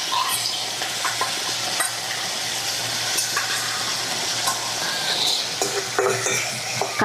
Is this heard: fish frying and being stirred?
yes